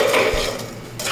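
Sugar being stirred into hot oil and butter in a pan to make caramel, a steady clatter and scrape of utensil against cookware, close and fairly loud throughout.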